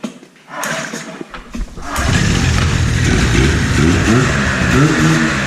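An old Ski-Doo snowmobile, unused for over five years and smoking heavily in a garage, sputters with a few uneven pops before catching and roaring into a loud, steady, close engine drone.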